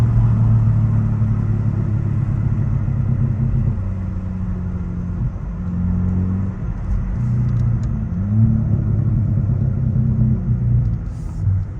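A car's exhaust rumbles and burbles as the throttle is lifted while in gear. The deep, loud rumble swells and dips unevenly, close to the source, with no talking.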